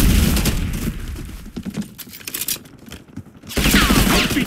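Rapid bursts of automatic gunfire in the shooter Call of Duty: Black Ops 6 during a multiplayer match, loud and dense at the start and end with sparser scattered shots in between.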